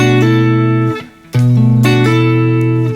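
Guitar playing a chillhop phrase from "Cruisin" by Cloudchord, with sustained clean chords and a hammer-on phrase, loud and close, briefly dropping near silent midway before the chord rings out again.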